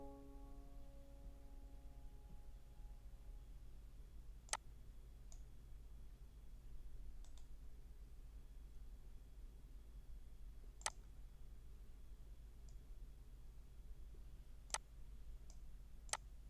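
Mouse clicks on a Windows 10 or 11 computer, sparse and sharp, about six single clicks spread across a low steady hum, with a brief faint tone near the start.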